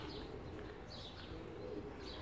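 Pigeons coo softly at a distance in a low, continuous murmur against steady outdoor background noise, with no talking.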